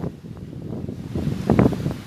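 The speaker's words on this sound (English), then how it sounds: "The wind blowing hard." Strong gusty wind from Hurricane Ida at landfall buffeting outdoors, a rough rumbling roar with rustling that swells louder toward the end of the short stretch.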